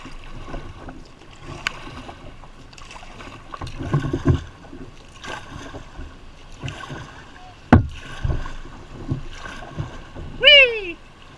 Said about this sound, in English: Nothing like a 16-foot boat in the shallow rapids.